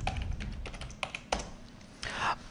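A few keys tapped on a computer keyboard as a group name is entered, producing sparse, close clicks with short gaps and a brief rustle near the end, no voices.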